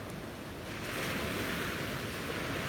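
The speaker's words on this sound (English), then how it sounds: "Monica, the waves are absolutely mesmerizing today" Ocean waves break on a beach at sunrise, a loud continuous rushing surf that swells slightly partway through, mixed with wind noise on the microphone and no voices.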